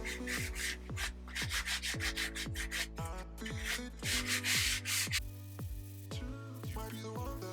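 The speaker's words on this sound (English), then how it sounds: "this 120 grit sandpaper to sand the edges all around to make sure that they're nice and smooth" Wood edges are being sanded by hand with 120 grit sandpaper, producing a rapid series of rough rubbing strokes, close and fairly quiet, that come in quick irregular bursts with no talking.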